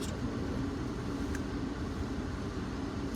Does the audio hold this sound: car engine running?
yes